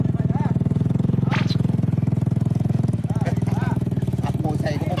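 A motorcycle engine running with a steady, pulsing putter close by, as the bike is started and ridden off, while several people talk and shout over it.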